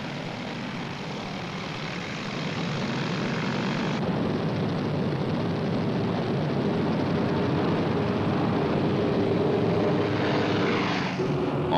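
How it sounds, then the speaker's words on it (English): Massed B-29 Superfortress bombers roar overhead in a night raid on Tokyo, a dense continuous drone of heavy propeller engines that swells louder after a few seconds and holds steady to the end. "All of a sudden, the blast from airplanes came over like a roar."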